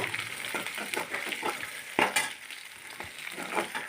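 Green chili paste with cumin seeds stirred in a hot pan for a Bhogi vegetable dish, a close, busy scraping and soft sizzle with uneven strokes and a sharper clack near the middle, no voices.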